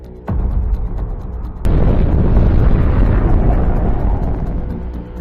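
A huge explosion from the Fat Man plutonium nuclear bomb: a sharp onset, then a second louder blast that swells into a sustained, roaring rumble. The roar fades slowly and no voices are heard.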